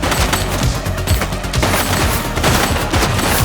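Rapid bursts of automatic gunfire in The Precinct, a police action video game, loud and continuous with dense overlapping shots throughout.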